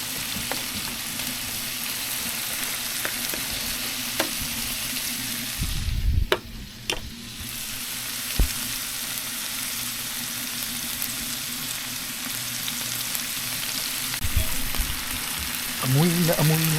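Steady sizzling and crackling of food frying in a pan, with occasional clinks of a utensil stirring, heard close and continuous.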